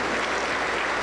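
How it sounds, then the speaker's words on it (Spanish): A church congregation claps together in a short burst of dense, loud applause with no gaps. "Aplauso para el Señor Jesús"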